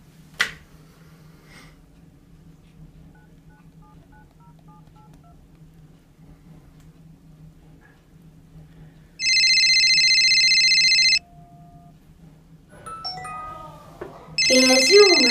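A phone dials out for a call: a steady electronic dialing tone sounds for about two seconds after near silence, then a ringing tone starts near the end, loud and close.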